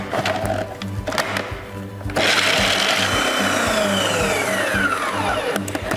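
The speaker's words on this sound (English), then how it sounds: "we will just give this a nice blitz so that it completely combines" Food processor blitzing nuts with local Australian honey for a pecan and pumpkin pie, a loud, close, steady motor whir that kicks up sharply partway through and then runs continuously.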